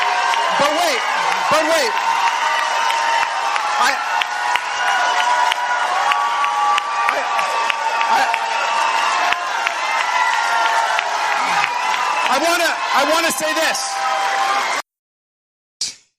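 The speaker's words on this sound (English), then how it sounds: "So he got drowned out by the applause." Loud crowd at a presidential inauguration cheers, whoops and applauds almost without pause, swamping a speaker's voice; shouts rise above the roar before it cuts off abruptly near the end.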